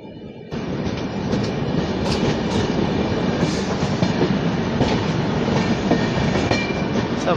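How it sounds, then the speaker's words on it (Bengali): Humsafar Express train rolling into Jharsuguda Junction, a steady loud rumble of wheels and carriages with faint clickety-clack, continuous and close throughout after a brief quieter start. "আমাদের ট্রেন এই মুহূর্তে ঝারসুগুড়া জংশনে প্রবেশ করতে চলেছে"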